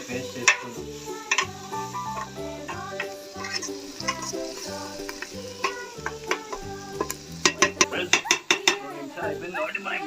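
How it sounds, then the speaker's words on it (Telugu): Turmeric stirred into curry in a pot, heard as scraping and clinking of a spoon against the metal with soft sizzling underneath, busier and more rapid toward the end. "తర్వాత ఏం చేద్దామంటే పసుపు బాగా కలుపుకుంటాం"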